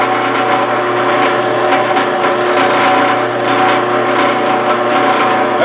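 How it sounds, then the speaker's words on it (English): A power drill whines steadily while drilling through a metal rivet, a loud continuous buzzing with scraping texture and no pauses. "I'm going to drill down through that rivet just to break the top of it off."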